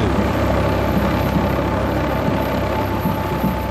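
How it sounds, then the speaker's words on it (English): A helicopter drones steadily throughout, a loud continuous rotor and engine roar with no breaks and no voices. "helicopter is Gary, a 47-year-old single father of two"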